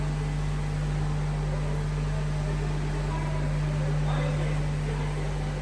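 Olive mill machinery running during the washing and pressing of olives, a loud steady mechanical hum and broadband roar filling the room, continuous and unchanging.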